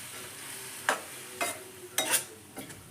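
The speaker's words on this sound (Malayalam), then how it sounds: "എന്നിട്ട് നന്നായിട്ടൊന്ന് ഇളക്കി യോജിപ്പിക്കാം." A spoon scrapes and stirs cooked noodles into a cheese noodle masala in a pan, making a few soft, close swishing and sizzling strokes spaced about half a second apart with no talking.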